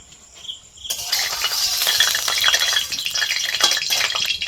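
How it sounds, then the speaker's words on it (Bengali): Oil goes into a hot wok-style kadai with a long handle, bursting into a loud, close sizzle that starts suddenly and crackles on steadily with small clinks. "কড়াই বসিয়েছি, এখন তেল দেব।"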